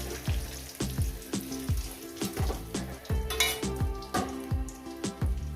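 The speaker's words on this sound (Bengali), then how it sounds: "আর তিন টুকরো আছে মাছের মাথা ওগুলো একেবারে ভেজে নিয়ে" Katla fish heads fry in a pan with oil, a sputtering sizzle broken by repeated rhythmic scraping strokes of a spatula against the metal, close and prominent, no speech.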